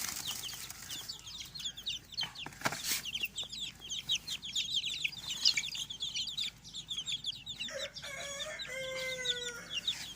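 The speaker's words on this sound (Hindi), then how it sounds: "ये अभी मुल्तान से आए हैं जी, हमारे ब्लैक टंग अयाम समानी, और इनको हम खोलने लगे हैं।" Black-tongue Ayam Cemani chicks peep and chirp in a busy chorus, with adult chickens clucking and a rooster crowing in the background, plus occasional wing flaps; no one speaks.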